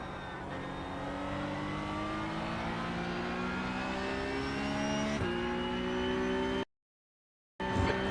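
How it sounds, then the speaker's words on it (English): Race car engines in the iRacing VR sim racing game hold a loud, steady high-revving whine with rising harmonics, close and continuous, then cut briefly to silence near the end; no voices. "Okay, Ricky, there's a car exiting the pits."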